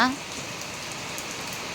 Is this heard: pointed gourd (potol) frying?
no